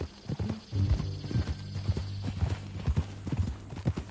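Horse hooves clip-clop at a steady walking pace in Red Dead, the even thudding steps fairly close and clear, with a brief whinny and no talking over them.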